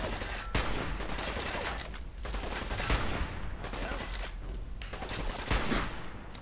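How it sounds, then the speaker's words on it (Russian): Gunfire from a sniper rifle and other weapons in the video game Fallout 4, a dense, continuous barrage with several sharp louder shots standing out, close and loud throughout. "Отличный, отличный снайперский выстрел."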